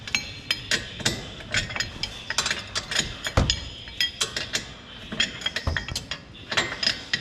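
Ratchet wrench loosening the brake caliper bolt on a Nissan 370Z, with rapid close clicking bursts repeating in uneven runs, punctuated by a few metallic knocks and clinks.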